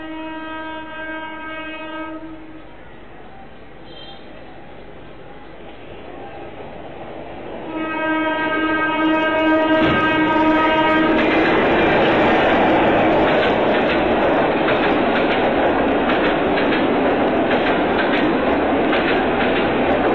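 A train horn sounds in two long blasts, the second followed by the loud, rumbling clatter of the train passing close by.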